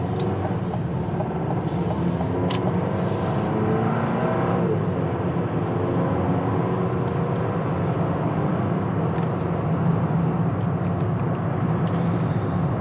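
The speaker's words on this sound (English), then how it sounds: "Okay, a lot of traffic out tonight." Night road traffic streams past a parked 2025 Buick Enclave Avenir, a steady loud roar of tyres and engines with vehicles swelling and fading as they pass close by, no one talking.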